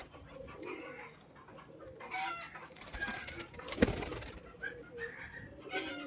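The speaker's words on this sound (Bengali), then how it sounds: "এই যে এক জোড়া পায়রা, মালবাহী পায়রা" A pair of carrier pigeons gives soft, scattered coos and calls, with a sharp burst of noise midway through and a faint background hum.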